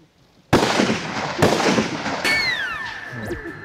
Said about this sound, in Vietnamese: Nghe tiếng súng rầm vang lên mà sợ chứ.